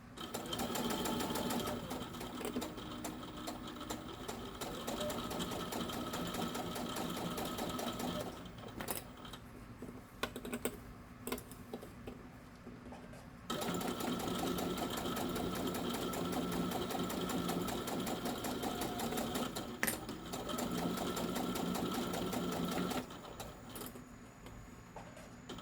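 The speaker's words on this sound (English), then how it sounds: "and we're going to sew all the way around." A sewing machine stitches all the way around a small carry-all bag, its needle motor running in steady, fairly loud bursts with a short pause near the middle and brief stops toward the end.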